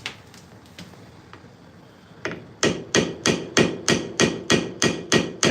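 A hammer taps brass pins set on an anvil, a quiet stretch first, then about ten sharp, evenly spaced metallic strikes ringing in a steady rhythm close by.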